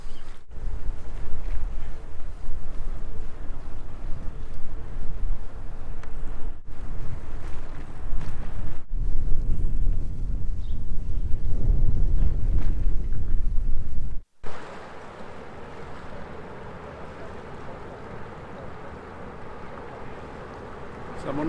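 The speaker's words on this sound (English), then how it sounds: "there's the same ship that I've been travelling with all day" A ship travels on a river near Braubach on a calm, sunny day, a steady low rumble heavily buffeted by wind noise, loud for most of the stretch before dropping to a quieter, even drone.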